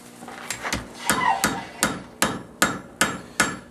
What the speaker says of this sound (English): Here we're now going to move to the anvil and weld it.